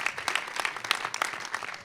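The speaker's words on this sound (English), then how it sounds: "let's have a huge round of applause, please, for Mary Poppins Returns" An audience claps at a celebration for the film Mary Poppins Returns, a brief, dense, steady burst of applause.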